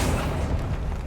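The Confringo spell explodes in Hogwarts Legacy as one brief, dense, roaring blast that fills the whole moment at high volume.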